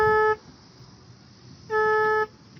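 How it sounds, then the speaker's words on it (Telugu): A motorbike horn sounds when the starter is pressed instead of the engine, two loud steady honks close by, a short one then a longer one after a pause. "ఏందిరా హార్న్ వస్తుంది స్టార్ట్ చేస్తా ఉంటా?"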